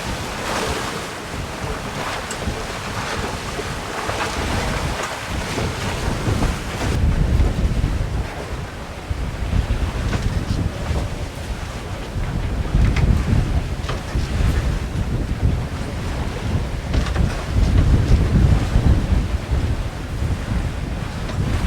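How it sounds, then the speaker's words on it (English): A sailboat under sail moves at about five and a half knots, with steady wind buffeting the microphone over rushing waves and hull splash, loud and continuous without any talking. "But nice to be sailing."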